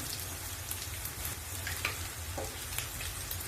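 Chopped onions frying in a pan, already mostly browned, crackle and sizzle steadily with dense spitting pops over a low hum, with no talking.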